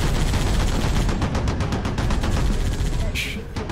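An anti-aircraft gun in the video game Halo: Reach fires as one loud, sustained and rapid burst of shots that fills the whole clip.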